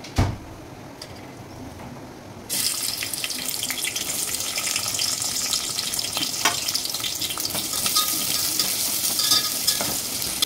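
Onion and green chillies dropped into hot ghee and oil for soya biryani, starting with a quiet thud before a loud, steady frying sizzle bursts in and continues close by with crackling.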